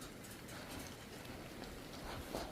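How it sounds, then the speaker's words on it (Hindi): Heavy rain falling in a Himalayan hill village, a dense, even patter and hiss filling the air, fairly faint and steady, with a few louder drops near the end and no voices. "अभी फिर से इतनी ज़्यादा बारिश आने लग गई है"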